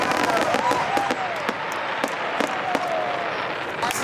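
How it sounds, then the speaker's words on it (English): Fireworks bursting at a motorsports park after a stunt show, a steady run of sharp pops and crackles over a dense crowd roar, with whistling rising trails threaded through. "All the fireworks are going off."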